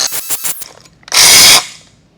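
A power grinder whirs in a short burst against a pipe weld tie-in, loud and close, after a few quick stuttering pulses.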